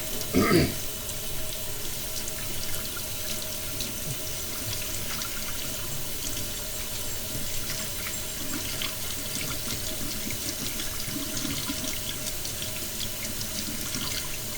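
Hot tap water runs steadily into a sink, rinsing a motorcycle air filter from the inside out, a constant splashing hiss with a brief louder splash at the start.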